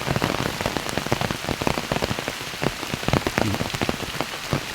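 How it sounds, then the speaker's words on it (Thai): Steady rain falling on surfaces outdoors in a rural countryside setting, with dense, continuous patter and many close drops striking throughout, no voices present. "ฝนกำลังตก"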